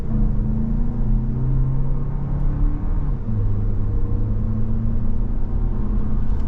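2024 Toyota Grand Highlander Platinum with a new engine pulling away from a stop, a steady low engine rumble building smoothly and close, with a drop in pitch midway as it shifts, heard from inside the cabin.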